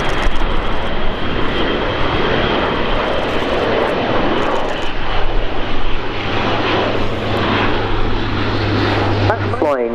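Airbus A400M Atlas military transport's turboprop engines drone steadily at an air show, a continuous loud roar with a low tonal hum growing in the second half, heard under ongoing commentary.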